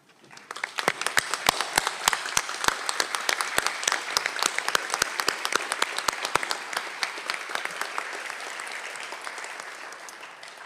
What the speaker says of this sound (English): give our graduates a round of applause